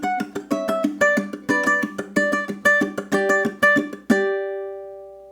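Ukulele playing a Motown song intro at fast speed, with quick bright plucked notes and strums in a steady driving rhythm, ending on a ringing chord that fades, close and clear with no talk.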